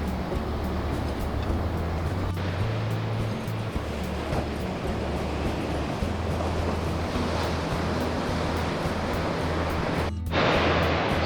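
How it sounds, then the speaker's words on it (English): Waves roll and break in a continuous roar of surf at Mungo Beach, New South Wales, Australia, with wind buffeting the microphone throughout and no voices. "A few more waves."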